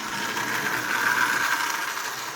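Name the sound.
Marx 994 toy train locomotive running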